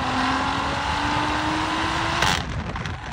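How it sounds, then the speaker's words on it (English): An SUV with a loud aftermarket exhaust and turbo roaring steadily as it accelerates, its tone rising, then cutting off abruptly into a lower rumble near the end; close and loud, no talk. "And I think because there's now a little bit more turbo sound,"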